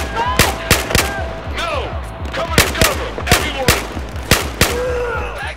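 Gunfire in Battlefield 4 on Xbox One, Kunlun Mountains campaign: loud, sharp shots crack in an irregular rhythm of single and paired bursts, with whooshing and echoing tails between them.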